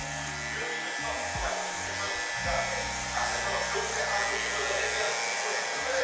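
Electric hair clippers fitted with a 1.5 guard and the lever fully closed, running with a steady close buzz that shifts slightly as they move, under occasional low talk.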